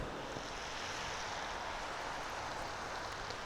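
A jet airliner at Manchester Airport at night, a continuous broad, even roar holding steady at a distance with no voices.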